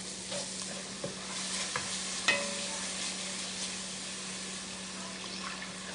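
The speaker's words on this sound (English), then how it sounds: "So I'm going to mix this, and I want this to cook for about 15 seconds" Spices frying and being stirred in a pot for beef chili, a soft continuous sizzle with occasional clicks and scrapes of a utensil, fairly quiet and close, no talking.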